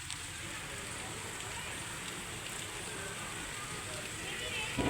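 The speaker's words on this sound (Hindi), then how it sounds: "इतनी तेज़ी से बारिश अभी शुरू हुई है तेज़, और अब दोबारा शुरू हो गई।" Heavy rain pours down in a dense, steady hiss that fills the whole clip, swelling slightly louder toward the end, with no other sounds breaking through.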